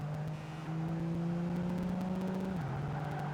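Race car engines in the Project Gotham Racing 2 video game, a steady, sustained drone held close, with the pitch shifting slightly as the car holds speed.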